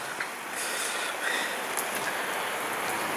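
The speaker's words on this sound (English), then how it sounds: "It's only raining a little bit." Light rain patters steadily with a soft hiss, a few faint squeaks and clicks in the background, and no one speaking.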